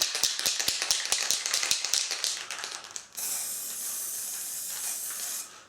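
An aerosol spray paint can hisses steadily as blue paint is sprayed, a continuous close broadband jet lasting a few seconds, preceded by a run of quick tapping clicks.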